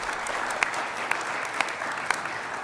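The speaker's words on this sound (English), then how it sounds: "Gets a little clap there." Modest applause from a small audience, an even spatter of clapping hands with a few louder claps standing out at regular intervals.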